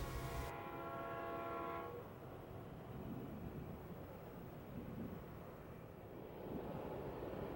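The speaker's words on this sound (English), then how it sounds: "the BNSF train travels along the basin at the foot of the tall mountain range." A BNSF freight train travelling through Cajon Pass, beginning with a chord horn blast that cuts off, then a steady distant rumble of rolling railcars.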